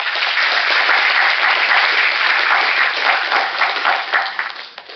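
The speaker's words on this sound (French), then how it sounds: "On peut de nouveau les applaudir" Sustained applause from the audience at a student eloquence contest final, honouring four finalists; dense, steady clapping fills the room for several seconds and begins to thin out at the very end.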